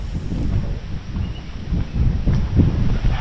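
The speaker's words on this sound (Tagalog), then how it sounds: "Oo, lakas ng hangin" Strong wind roars and buffets the microphone, a steady low rumble with gusts swelling louder toward the end; no one speaks.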